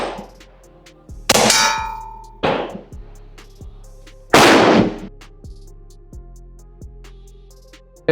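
A BinTac PA 30 pump-action air gun fires at a range, giving a sharp crack, followed by metallic clangs and pinging impacts from a steel target, then quieter ticking.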